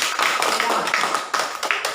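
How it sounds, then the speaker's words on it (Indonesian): A class of children claps together during a lesson, a dense run of quick irregular hand claps filling the whole stretch, with some voices mixed in underneath. "Ayo tepuk tangan anak-anak."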